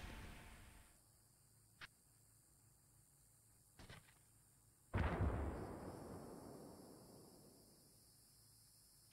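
Grenade explosions in a video game: a few small sharp pops, then one larger blast that rolls off into a long fading rumble.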